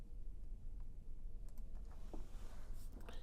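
Someone types a login name on a computer keyboard, producing a few faint, scattered key clicks over a low steady background hum.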